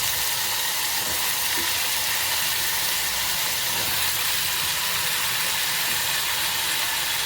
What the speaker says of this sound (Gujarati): શાક બટાકા બધા નાખી દેવાના.